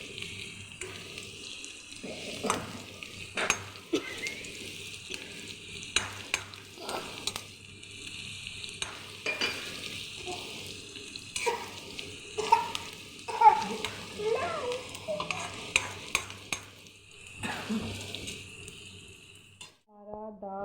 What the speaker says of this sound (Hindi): हमारी मिर्चें लाल होने लगी हैं, या फ्राई होने के करीब पहुँच चुकी हैं।